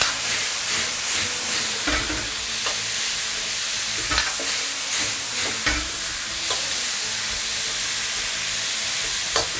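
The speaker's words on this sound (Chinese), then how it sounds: "这时候开最大的火，下入口蘑， 锅里来烹入少许的清水" Mushrooms and red, green and sweet peppers stir-fried in a wok over the highest heat, with a splash of water added: steady loud sizzling and hissing, broken by repeated scraping strokes of the spatula against the pan.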